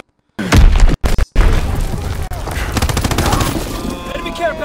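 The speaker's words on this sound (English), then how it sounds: "Enemy bomb incoming!" Enemy bombs and gunfire in the video game Call of Duty WW2, with loud booming explosions up front followed by dense, continuous rattling fusillades and scattered pops. Shouted voices sound in the mix.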